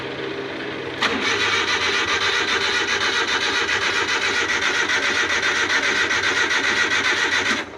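Starter motor churns a newly overhauled Suzuki F6A engine continuously for several seconds, loud and close, in an even whirring drone that never catches and settles into a running idle.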